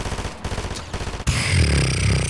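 Rapid SMG bursts in a Fortnite-style shooter, a steady string of close, punchy shots cutting off sharply, then giving way to a denser, continuous roar of gunfire and effects.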